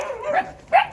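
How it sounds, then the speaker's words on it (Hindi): A puppy, one of several young dogs among a collection of exotic animals, gives two short high yelping barks about half a second apart, close to the microphone with no talking. "ये बच्चा बहुत भौंक रहा था"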